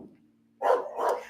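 A dog gives two quick barks close to the microphone after a quiet moment with a faint low hum, with no one talking.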